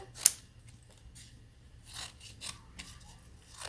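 Scissors trimming excess craft vinyl and transfer tape from a monogram decal: one crisp snip, then several fainter snips and rasping cuts, close and quiet with no talking.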